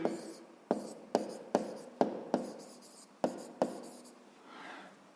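A pen on paper, scratching out handwritten math during a fifth-grade exercise; eight or so short distinct strokes with quick onsets and trailing scrapes, close and clear, with no talk.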